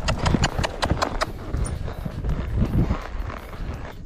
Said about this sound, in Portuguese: deu uma carreirinha na égua